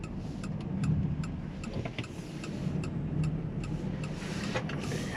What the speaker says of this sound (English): The indicator sound is a little bit loud